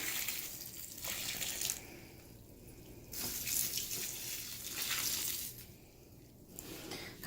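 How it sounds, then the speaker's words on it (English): Water splashes and rushes in uneven surges, rising and falling, with faint background noise and no talking. "I'm going to put some more water in the dry one."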